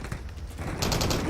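Rapid bursts of gunfire in a military shooter video game ring out amid combat, a quick volley of shots building in the second half of a brief moment, with faint radio-style voices underneath.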